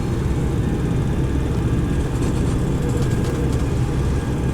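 Boeing 727-200A jet engines spooling up in a flight simulator, heard as a steady, loud broadband roar with low rumble that holds even and continuous throughout.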